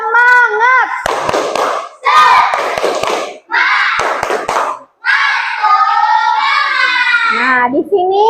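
Children performing a rhythmic Indonesian classroom clapping chant, sung call-and-response phrases punctuated by sharp, synchronized group claps in short bursts, close and loud.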